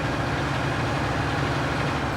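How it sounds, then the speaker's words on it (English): A tractor engine idles in a video game with a steady, low, rumbling drone that holds at an even level throughout, with no other sounds over it. "It's my tractor that's stuck."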